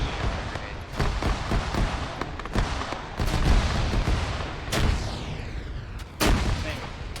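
Combat in Arma 3 on Stratis: a dense, continuous crackle of rifle and machine-gun fire with several heavier grenade-launcher booms, some near and some distant.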